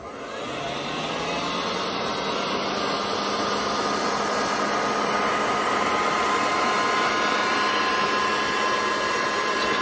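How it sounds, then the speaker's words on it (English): A standard heat gun with its nozzle on blows a steady, close, rushing hiss as it heats the edges of a Toyota Celica headlight. The airflow starts within the first second and then holds constant. "So standard heat gun, just with the nozzle on, and I'm just going to heat all around the edges"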